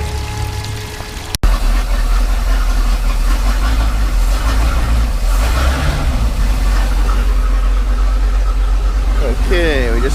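A boat motor being winterized starts with a sharp click and then idles in a steady, loud low rumble with water splashing, while a voice talks over it.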